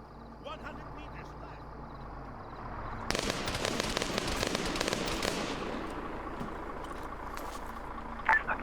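Rapid gunfire from Arma 3 rakes static targets, starting abruptly as a dense crackling burst of shots that fades off; a louder sharp report follows near the end over a steady low background.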